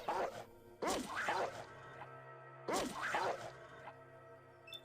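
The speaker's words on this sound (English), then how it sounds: "Dog meat can be pretty vicious." Dogmeat attacks in Fallout with two bursts of snarling, growling barks amid whooshes and hits, set over a low steady hum and some quieter background tones.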